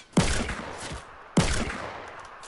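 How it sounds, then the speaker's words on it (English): Two loud, close gunshots in Fortnite Battle Royale, spaced about a second apart, each with a sharp crack and a lingering echoing tail, with no talking. "Oh nope! I'm shot from behind."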